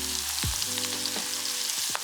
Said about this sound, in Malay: Kemudian kita goreng dalam minyak panas sampai garing.